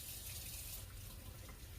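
Water runs steadily from a household tap into a sink, a constant close hiss and splash with no pauses and no talking.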